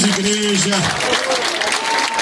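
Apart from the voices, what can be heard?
congregation applauding in church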